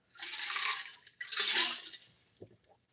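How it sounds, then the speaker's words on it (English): Someone drinks water during a live crafting session: two close, breathy liquid bursts a moment apart, followed by a few faint, soft clinks as the sound tapers off. "I drink some more water."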